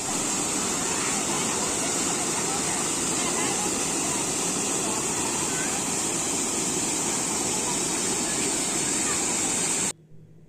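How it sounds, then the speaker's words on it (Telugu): A waterfall gushes down hard and fast, producing a loud, dense roar of rushing water that holds steady for about ten seconds before it cuts off sharply. "వాటర్ సౌండ్ ఎలా వస్తుందో చాలా ఫాస్ట్గా వస్తుంది అందుకే అంత సౌండ్ అయితే వస్తుంది"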